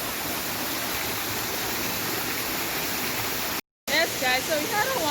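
Golden Falls waterfall in Grenada roars as a steady, broadband rush of falling water, continuous and close, broken by a brief dropout before someone starts talking over the flow.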